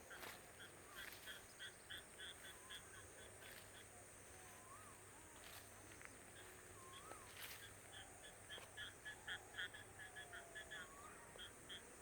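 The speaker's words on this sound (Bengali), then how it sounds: "এই জন্য ব্যাঙে ডাকতেছে।" Frogs call from a ripening rice paddy after a night of rain, faint, far-off croaks repeating in quick rhythmic pulses across the whole stretch over a quiet outdoor background.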